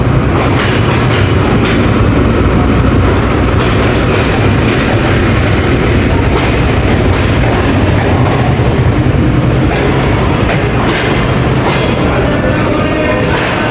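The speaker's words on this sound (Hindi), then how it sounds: "लोको शट डाउन हो गए थे, दोबारा स्टार्ट हुआ है 6421 का 6421 का 47 अब रहमान बाबा एक्सप्रेस।" A diesel locomotive of the Rehman Baba Express idling after restarting at Attock station, a steady loud rumbling drone with rattling carriage noise throughout, close by and unbroken.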